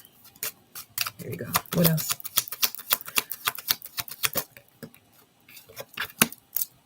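Rapid crisp clicking and flicking of tarot cards being shuffled, in uneven bursts, with a person speaking briefly over it.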